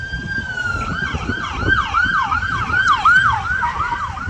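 An ambulance siren wails and yelps in fast repeating sweeps, fairly close, over steady road traffic noise in Napa.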